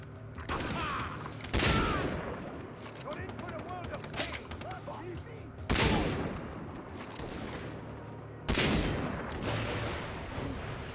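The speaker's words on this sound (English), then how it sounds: "Explosions!" Rapid bursts of gunfire with several loud explosions booming through, a dense, chaotic Far Cry 3 co-op battle soundscape with a voice occasionally underneath.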